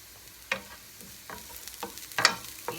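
Vegetables for fried rice frying in a pan, soft sizzling under sharp intermittent scrapes and clacks of a utensil stirring them, close and uneven.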